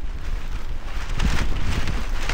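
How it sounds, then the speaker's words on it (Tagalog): Strong wind gusting across a flooded farm field in the rainy season, a rough buffeting roar that strengthens toward the end, close to the microphone and without talk. "Grabe ba yung hangin mga kapangil"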